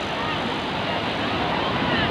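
Khadavli river crowded with bathers: a steady, dense wash of flowing water and outdoor noise fills the whole stretch, loud and unbroken, with no clear voices standing out.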